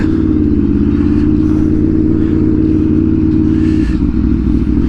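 Aprilia motorcycle engine running steadily during a ride, a loud continuous rumble with a dense low throb that holds the whole time, a slight shift near the end as the bike slows to park, no talk.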